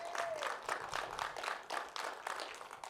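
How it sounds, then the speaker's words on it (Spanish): A church congregation gives a hearty round of applause to the King of Kings during a Spanish-language sermon, moderately distant clapping in rhythmic surges that rise and fall over three seconds. "Den un fuerte aplauso al Rey de Reyes."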